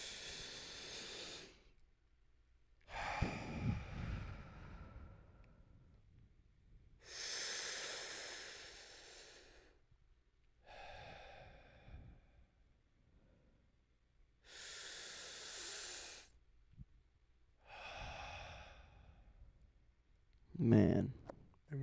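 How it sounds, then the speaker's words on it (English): Deep breaths taken during a podcast breathing exercise, several slow, airy inhale and exhale cycles spaced a few seconds apart, close and clear, with quiet gaps between them. "let's take some deep breaths"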